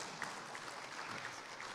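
Faint, steady audience applause at an evening business leadership awards ceremony, a soft even patter of many hands continuing throughout.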